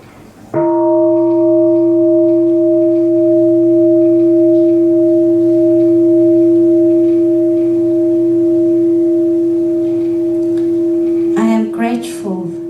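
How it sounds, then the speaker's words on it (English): A meditation bell is struck once and rings out alone in a quiet room, its clear sustained tone humming steadily for about eleven seconds before a voice begins to speak. "Just close your eyes and listen to one sound of the bell."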